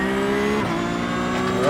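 Porsche GT3 Cup engine in iRacing at a race circuit, revving loudly and steadily with a harmonic whine that rises in pitch as it accelerates.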